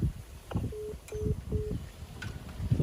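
Telephone dialing tones: three short, evenly spaced beeps close by, then a faint fourth, over a rumbling, noisy background without clear talk.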